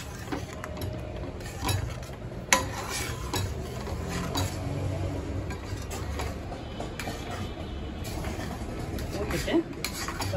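Ladle stirring strained jaggery liquid into paruppu payasam in a metal pot, with soft scraping and clinks against the vessel, quiet irregular knocks under a voice speaking.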